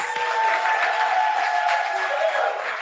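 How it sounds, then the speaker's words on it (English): A crowd at a funeral parlor's app launch event claps steadily for a few seconds, a moderate, dense patter over a faint tonal hum in the room. "Can we give ourselves a round of applause, guys, please?"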